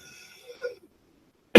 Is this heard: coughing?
yes